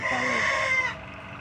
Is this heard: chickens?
yes